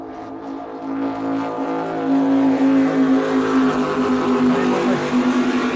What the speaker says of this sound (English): so close to these boats, I can't even hear myself speak over these big ones.